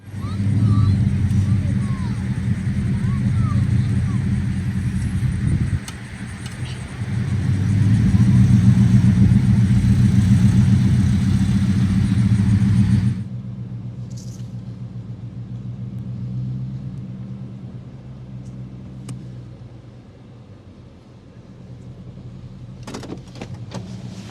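A Jeep's engine rumbles and revs as it backs up under tow on a line, a low, close droning growl rising and falling that drops to a quieter idle partway through.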